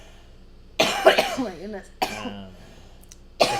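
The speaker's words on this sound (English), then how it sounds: "I'm going to cough through it." A person coughs in a few loud, rough bursts spaced across a couple of seconds, with speech mixed in between the coughs and a quiet pause before the last burst.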